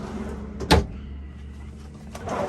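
A single quick sliding thump of a deep drawer opening under the cooktop in a 2009 Born Free Class B Plus motorhome, followed by faint room noise.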